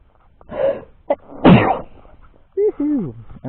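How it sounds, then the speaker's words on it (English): A single loud close-up human sneeze, with a short breathy lead-in and a sharp burst, then a person calls out excitedly right afterward. "I'm gonna sneeze there."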